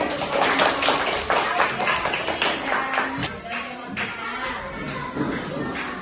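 An audience in a classroom or lecture setting clapping, a dense steady patter of many hands that fades slightly toward the end, with some voices mixed in.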